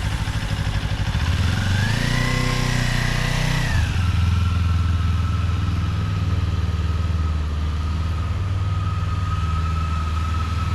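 A motorcycle engine runs loud and close, rising in pitch and then easing off as the bike leans around a turn, followed by a steady drone.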